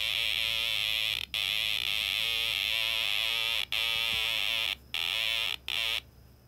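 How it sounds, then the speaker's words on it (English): A Snap Circuits electronic kit circuit gives a steady buzz with a pulsing, warbling tone, like a bee, cut off briefly by a few short silences. "Now the circuit kind of sounds like a bee."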